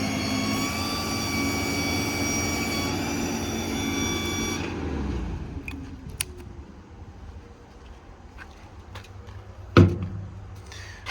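2019 Ford F-550 four-wheel-drive truck engine running PTO hydraulics, a steady tonal whine and hum that cuts off partway, leaving quieter rumble with a few clanks and a brief loud knock near the end.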